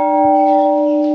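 Historic temple bell at Bhargavram temple in Konkan struck once, a loud clear metallic ring with sustained harmonic tones that hold steady through the whole moment.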